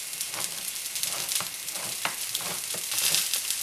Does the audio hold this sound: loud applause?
no